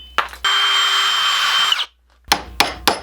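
A power drill whirs for over a second with a steady high whine while drilling into a wooden axe handle, then stops; a few sharp knocks or taps follow.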